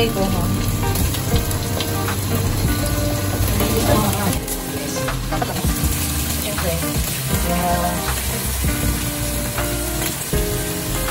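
Pineapple-marinated pork dropped into sautéed onion and garlic in a pan, frying with a steady loud sizzle and some stirring clatter throughout, no talking.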